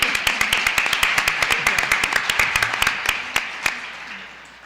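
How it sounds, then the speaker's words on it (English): A small audience at a New Living Expo panel in the SF Bay Area claps for a few seconds, sharp distinct claps in a loose rhythm that thin out and fade at the end. "So let's give a big applause to Lynette."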